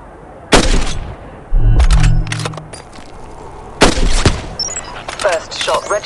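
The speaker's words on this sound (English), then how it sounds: "First shot registered. Target down." Gunshots from a sniper rifle in the mobile game Hitman Sniper, a few loud sharp cracks with booming tails spread across the moment, alongside a voice and ambient game sounds.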